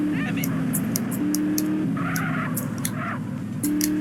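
A sports car in the game GTA San Andreas drives along a city street, its engine holding a steady, close hum that shifts pitch as it changes speed, with sharp clicks and knocks scattered over it.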